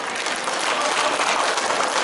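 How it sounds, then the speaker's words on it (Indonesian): Seminar audience claps together in a steady, dense burst of applause filling the room, loud and continuous with no voices standing out. "Tepuk tangan buat kita semuanya."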